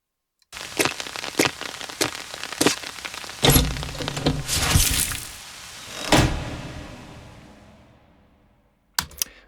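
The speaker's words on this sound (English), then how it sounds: "there's a lot of reverb on the end of that door close because it's a really big empty hallway that she walks into" A door bangs shut into a large, empty hallway after a rainy outdoor passage, its loud slam followed by a long reverberant tail that slowly fades, with sharp knocks and rustles before it.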